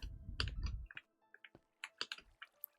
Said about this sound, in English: Sorry if the keyboard is right there.